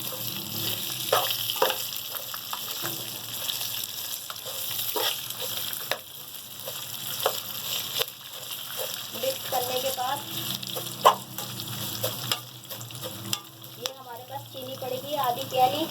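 Sesame and melon seeds sizzle in a hot pan as they are stirred together for a methi sawaiyyan recipe, with a soft frying hiss, scattered scraping and crackling, and a person talking intermittently over the cooking.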